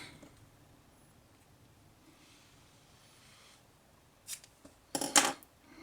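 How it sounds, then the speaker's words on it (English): Scissors snip off a small bunch of squirrel tail hair while a fly is tied, a faint rub followed by a pair of short, crisp cuts close up in a quiet room. "Take out a bit of squirrel tail like this, cut it off,"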